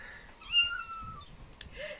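A cat meows twice, a drawn-out, wavering call followed by a shorter, rising one, close by with faint background noise.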